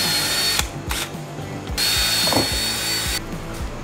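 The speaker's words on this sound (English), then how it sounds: "Just got to drill out all these holes so I can bolt them in." A power drill whirs in several bursts with brief pauses between them, close and loud, drilling bolt holes on a Porsche 996 Turbo, its pitch wavering as it bites into the material.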